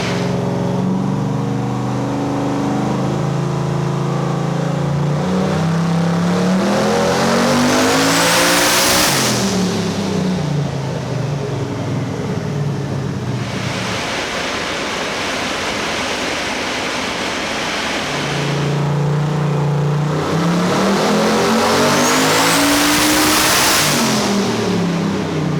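A turbocharged LS V8 in a Foxbody Mustang roars on a dyno, pitch sweeping up toward 8,000 rpm in two long pulls with a lull between, loud, close and dense with wind-like turbo rush.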